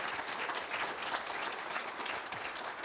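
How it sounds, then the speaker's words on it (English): Audience applause at an exhibit opening program, a full, sustained round of clapping from many hands, steady and fairly close throughout with no talking over it. "let's give a round of applause for Peggy Layton and Michael Glenn"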